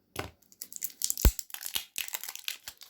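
Plastic wrap crinkles and tears in quick, irregular bursts at close range, with a sharp snap partway through as the packaging of a tarot card deck is pulled open.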